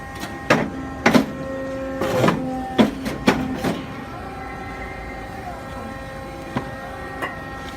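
An APC 610 paper cutter slices through paper stock, giving a few sharp mechanical clunks and whirs spaced irregularly over a steady machine hum, close by and fairly loud.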